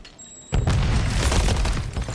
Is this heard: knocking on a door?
no